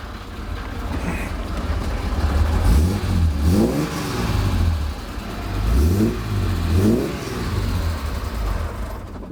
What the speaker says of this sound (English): turn the starter button. They were a bit cranky when they first started because it takes a bit of oil pressure